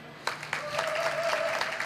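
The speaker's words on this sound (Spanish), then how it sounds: "Un aplauso." Audience applause at a creativity talk, a faint, brief burst of clapping building after a sharp start and holding steady, with a soft tone running through.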